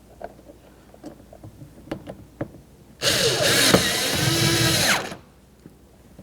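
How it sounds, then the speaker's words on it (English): A power driver tightens the single Phillips head screw in the center of the grab handle on a 2003-2007 Honda Accord front interior door handle: one loud two-second whirring burst, near and alone, after a few faint clicks. "Now we'll continue on to our 1 Phillips head screw that goes inside the center of the grab handle."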